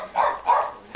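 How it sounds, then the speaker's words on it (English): A dog barks twice in a virtual game room, two close, fairly loud woofs about a third of a second apart, followed by a faint short yip. "A dog barking?"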